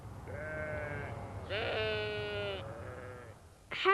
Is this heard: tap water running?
no